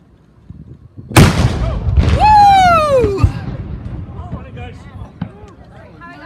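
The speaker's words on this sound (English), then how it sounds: "We have a noon cannon." A noon cannon fires once with a sharp, loud boom that rolls into a long decaying rumble, followed by excited voices and cheering from people nearby.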